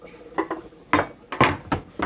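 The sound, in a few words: cutting up cassava with a knife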